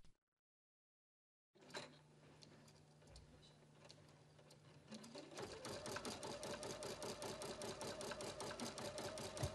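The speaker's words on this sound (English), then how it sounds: "Touch Start Stop again and continue embroidering." Husqvarna Viking Platinum Plus sewing machine running an embroidery design, starting after a short silence with a low motor hum, then a rapid, steady needle chatter that grows louder and busier, close and alone.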